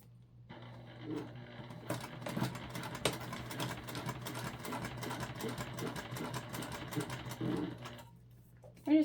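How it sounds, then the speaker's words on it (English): A sewing machine runs in a steady rapid whir while top stitching across a seam on a fabric travel pouch, speeding and slowing slightly over thicker layers, with faint clicks at the end. "we're top stitching across our seam"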